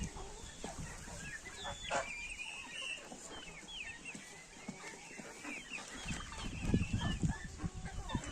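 Blue turkeys and other poultry in a farmyard cluck and call in scattered short bursts, faint and fairly distant, with a few louder rustling thumps near the end.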